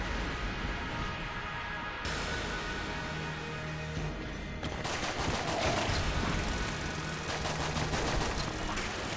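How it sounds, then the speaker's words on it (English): Starter pistol fire in a video game, with a steady dense clatter of rapid shots layered over constant game noise and music, growing busier partway through. "I am gonna do it with my starter pistol"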